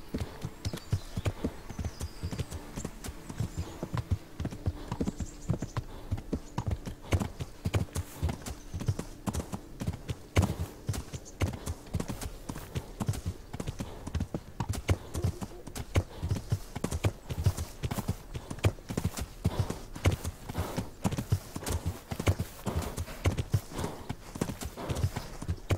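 Horse hooves clip-clop steadily and close throughout a ride in the medieval game Kingdom Come: Deliverance, a continuous even rhythm with an occasional faint whinny and no talk over it.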